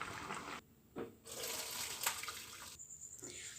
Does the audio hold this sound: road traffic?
no